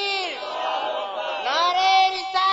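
A crowd at a religious gathering roars a unison chant in reply to a called slogan, with loud sustained massed voices that rise and fall over a couple of seconds.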